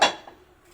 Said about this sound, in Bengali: এবারে গ্যাসটা ধরিয়ে নিয়ে কড়াইটা চাপিয়ে দেবো